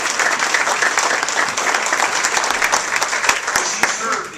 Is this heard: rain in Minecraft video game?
no